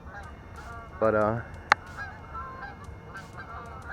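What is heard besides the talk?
geese honking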